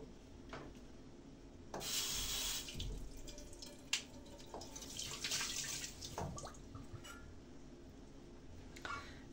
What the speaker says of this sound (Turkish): Şimdi durulama işlemine geçiyorum.